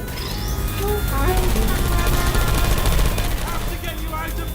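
Rapid automatic gunfire from turrets in Portal 2 rattles in dense, continuous bursts, loud and near, with a voice talking over it and some electronic tones mixed in.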